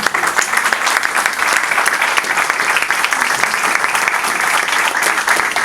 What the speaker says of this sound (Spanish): Yo quisiera un voto de aplausos para el doctor Simeón Orellana